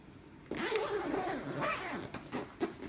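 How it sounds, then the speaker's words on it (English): A zipper pulled shut on a carrying bag holding a TPN infusion pump and its tubing, a close, scratchy rasp that starts abruptly and runs in uneven strokes for a couple of seconds. "Zip it up."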